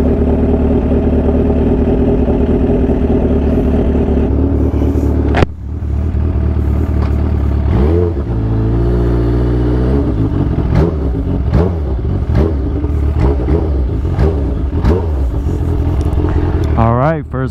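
A Kawasaki Ninja H2 motorcycle idles loudly up close, then is revved in several sharp blips that rise and fall, with a voice speaking over the engine.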